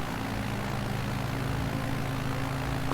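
The propeller engine of a small airplane in Flight Simulator 2020 drones steadily as the plane climbs. The low, even hum with tonal harmonics is loud and close and never lets up.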